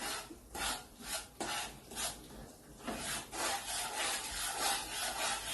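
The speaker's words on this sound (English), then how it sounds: "I mix it together by stirring." An oyster mixture being stirred in a pot, heard as repeated scraping, rasping strokes of the spoon against the pot in an uneven rhythm, close and moderately loud with no talking.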